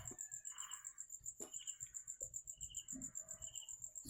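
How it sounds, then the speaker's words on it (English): A rooster crows at a distance, a couple of times, over constant high insect chirping and a low background rumble. "Oh, the rooster, already awake."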